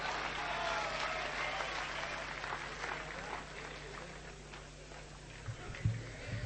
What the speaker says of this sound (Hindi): एक बार जोरदार तालियों से स्वागत करें भाई अशोक का